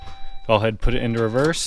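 Inside a Saab 9-3 convertible, a key-in warning chime tones on steadily under close speech.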